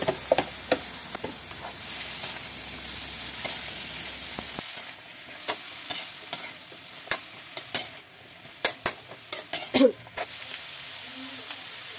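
Green, unripe papaya sautéing in a pan with sizzling under frequent scraping and clacking stirring strokes, close and moderately loud.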